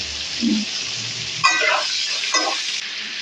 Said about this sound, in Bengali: ফুলকপিগুলো ভাজা হয়ে গেছে এখন আমি তুলে নেব